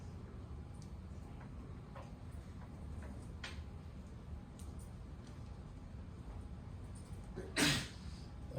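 A single sudden sneeze in a quiet classroom during a physics lecture, brief and fairly close, standing out against low room hum with no talk over it.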